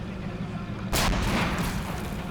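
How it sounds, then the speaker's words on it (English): Handheld mortars firing in the Men of War Assault Squad 2 war game, a sharp loud blast about a second in, followed by a rumbling tail over a constant low battle background. "My handheld mortars are shooting at them."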